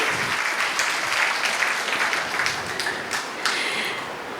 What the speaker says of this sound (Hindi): दीदी को बहुत बहुत थैंक्स वाली ताली बजा करके दीदी का वेलकम करेंगे